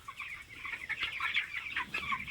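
Young chickens about 16 to 18 days old and sick with coccidiosis cluck and peep continuously in a busy, overlapping chorus, fairly close and moderately quiet.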